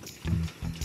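Farm pigs give two short, deep grunts close by, with a brief quiet gap between them.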